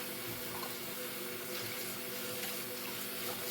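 Tap water runs steadily into a sink while lemons are washed, a continuous close hiss and splash with slight changes in the flow and no voices.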